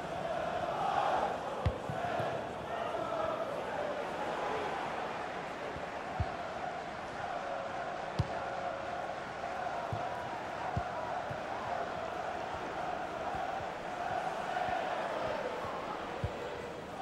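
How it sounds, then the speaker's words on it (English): Stadium crowd noise from EA Sports FC 24, a steady broad roar rising in urgency as the fans press for a shot, with faint thuds of ball contact scattered through the continuous wash of sound. "The crowd urging him to shoot."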